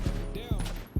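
Rapid bursts of video game gunfire, several heavy thumping shots in quick succession layered over a loud, busy mix of game noise and chatter, close and loud.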